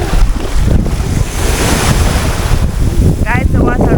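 Rough ocean waves at a Cayman Islands beach churn and roar loudly, mixed with heavy wind buffeting on the microphone, and a voice breaks in briefly near the end.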